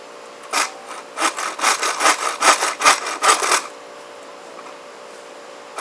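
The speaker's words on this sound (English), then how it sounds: "let's see how quickly we can saw through this fresh piece of lumber" SOG Sogfari kukri's sawback edge cutting through a fresh piece of lumber: a run of about a dozen rhythmic, rasping back-and-forth strokes, close and loud, with quiet before and after.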